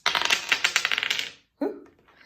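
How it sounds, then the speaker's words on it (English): A pair of dice rattle and clatter across a hard surface in a quick burst of clicks for about a second and a half, then land with a short final tumble after a brief pause. "let's give these dice a roll"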